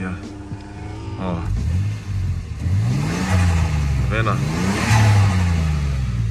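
A car with an aftermarket diffuser, its engine and exhaust heard through an open window as it revs and accelerates in repeated rising sweeps, fairly close and steady, with someone talking over it.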